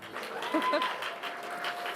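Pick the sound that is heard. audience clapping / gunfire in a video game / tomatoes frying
audience clapping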